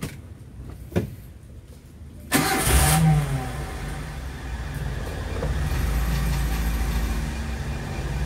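A car engine cranks and starts after a radiator temperature check, catching with a loud burst and settling into a steady idle that runs on alone, with no talk over it.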